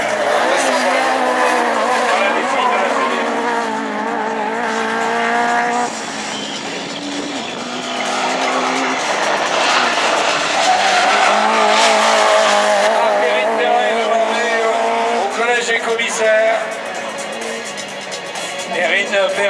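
Rally race car at a competition event near Châteauroux, engine revving and droning loudly throughout with shifting pitch, tires occasionally squealing, while an announcer talks over it.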